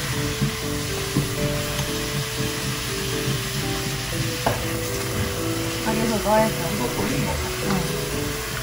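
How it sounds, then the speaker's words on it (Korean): Onions and potatoes frying in a pan give off a steady hiss and sizzle while a utensil stirs and scrapes, with background voices and low hum underneath. "너무 배고파서 대충 볶다가 감자를 넣었습니다"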